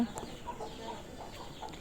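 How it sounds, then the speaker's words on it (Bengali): Chickens cluck softly with faint chick peeps in the background, a few scattered calls at moderate distance over low ambient noise. "তো আমাদের দেখো ছোট ছোট মুরগির বাচ্চা আছে, মা এগুলো পোষে, এখানে ওরা থাকে।"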